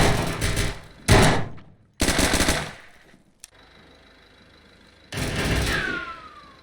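Rapid bursts of gunfire hammer a shield in an Overwatch-style team shooter during a tournament match, loud volleys broken by short pauses and a single sharp crack, ending in another heavy burst.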